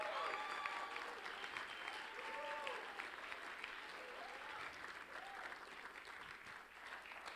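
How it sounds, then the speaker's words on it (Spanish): A church audience at a book launch claps steadily throughout, a dense, even wash of applause that is fairly faint and distant, with a few cheers or voices mixed in. "Con un fuerte aplauso"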